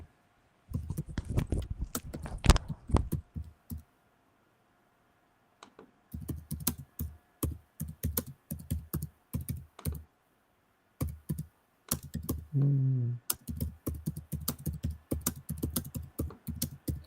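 Someone types on a computer keyboard up close, rapid clattering keystrokes in bursts separated by short pauses, crisp and isolated over a quiet room.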